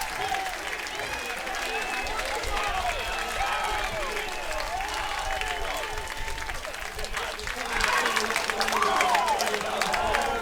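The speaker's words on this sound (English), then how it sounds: "This crowd is on their feet. A standing ovation for Nick Gonzalez." A baseball crowd at a Cotuit Kettleers vs Falmouth Commodores division finals game rises in a standing ovation, sustained applause and cheering that swells louder near the end, with an announcer talking over it.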